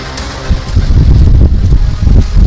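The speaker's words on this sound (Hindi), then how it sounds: "तेज हवाएं चल रही है" Strong wind gusts buffet the microphone outdoors in loud, uneven rumbling bursts that surge and ease over a couple of seconds, with no voices.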